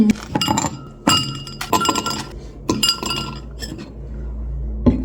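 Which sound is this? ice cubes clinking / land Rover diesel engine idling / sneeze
ice cubes clinking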